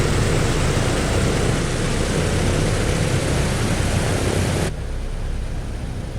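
Engines of a PMDG DC-6 propeller airliner taxiing in a flight simulator give a dense, steady broadband roar that drops in level near the end, loud and with no talking.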